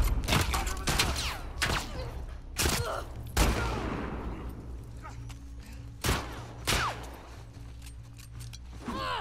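Several loud gunshots from The Last of Us Part 2 go off in irregular bursts, some close together and others spaced seconds apart, each with a short echoing tail.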